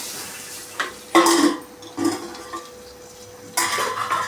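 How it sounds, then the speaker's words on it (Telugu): Dry lentils tipped into a cooking pan for a festival-day home meal, giving a few separate metallic clatters and scrapes, with a loud rattling pour near the start and another toward the end, close by and with no talk. "ఇప్పుడు పప్పులు వేసేద్దాం."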